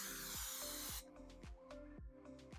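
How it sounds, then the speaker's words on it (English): A canola oil cooking spray can hisses in a steady burst for about a second as it coats a cake pan, followed by quieter clicks and clatter nearby. "I'm just going to spray with some canola spray."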